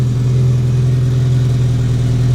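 A turbocharged Honda Civic engine idles as it warms up, a loud, steady low hum with an even pulsing rumble, close and uninterrupted.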